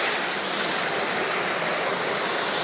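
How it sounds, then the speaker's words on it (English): Creek water cascading down near a railway tunnel, a dense, continuous rushing roar that stays close and loud throughout without pause. "And it just cascades down there."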